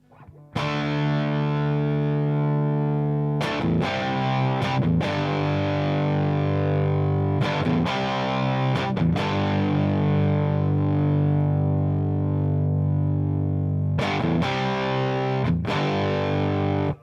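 A distorted electric guitar played through a tube amp's dirt channel switched to triode mode sounds alone, with sustained chords broken by a few sharp strum attacks and steady, loud level throughout.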